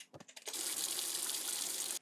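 Water tap in the video game Beacon Pines turned on after a few faint clicks, then a steady, fairly loud gush of running water pouring into a sink, cut off abruptly at the end.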